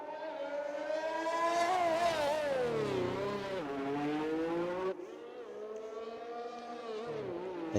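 Formula 1 racing cars in a video game head out onto the Monaco track, a high-pitched engine whine rising and falling through gear changes, fairly loud and continuous, with no talk.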